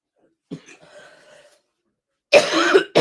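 Someone in the middle of a bad coughing fit lets out a short cough and a wheezy, throaty breath, then after a pause a harsher, louder burst of coughing, close to the mic.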